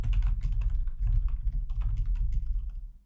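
Rapid, uneven keystrokes on a computer keyboard while writing JavaScript code, a dense close clatter of taps running throughout with no talk.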